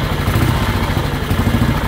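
A 1960 Norton ES2 500cc single-cylinder motorcycle engine runs close by, a quiet, even mechanical clatter and low throb that hold steady throughout with no voices.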